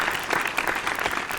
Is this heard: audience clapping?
yes